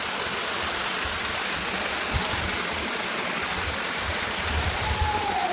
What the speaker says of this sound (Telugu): ఈ వాటర్ ఇలా వెళ్తూనే ఉంటుంది